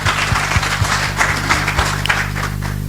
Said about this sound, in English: Could we just give them a round of applause, please?